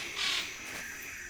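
At dawn in the Borneo jungle, a single nasal, barking bird call rings out briefly at moderate distance over a faint, steady background hum of the forest.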